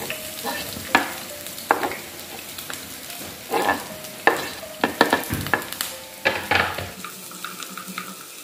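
Shallots, garlic, sliced chilli, galangal and bay leaves being sautéed, with a low sizzle under a run of sharp, uneven stirring clacks and scrapes against the pan, close by and without talk.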